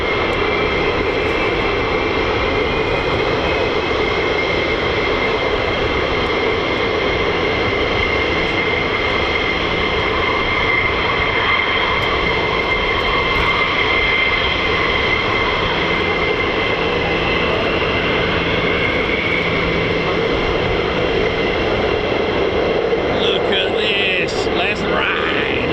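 US Air Force F-22 Raptor, F-16, F-15 and F-35 jets during a mass takeoff at an RAF base, a loud continuous roar of jet engines rumbling for the whole stretch, with people talking beneath it.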